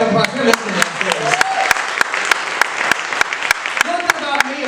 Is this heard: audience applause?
yes